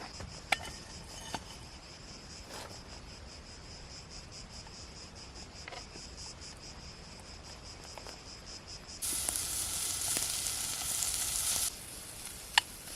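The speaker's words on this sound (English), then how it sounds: "fry in the sausage." Marinated sausages sizzle in a pan outdoors in the mountains, a loud burst of frying hiss lasting about three seconds over steady, close cricket chirping, with no talk.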